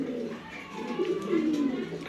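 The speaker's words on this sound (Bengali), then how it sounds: "দেখতেই পারতেছেন সব টপ কোয়ালিটি কবুতর" Pigeons, including Mili and red checker birds, coo softly and steadily, a low throaty warble rising and falling up close, with faint background murmur.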